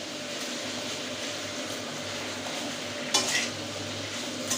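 A hilsa fish head is stirred in a cooking pot over a steady low sizzle, with one brief clatter of a utensil against the pot near the end and no speech.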